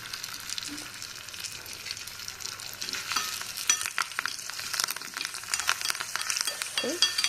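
Tempering spices with asafoetida crackle and sizzle in hot oil, a steady fizzing hiss with sharp pops that grow busier over a few seconds, close and fairly quiet.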